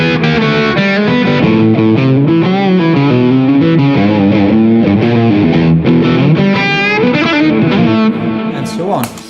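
Electric guitar played through a Ratin Blue Angel pedal gives a loud, bluesy crunch distortion, with sustained chords and melodic phrases ringing continuously close up.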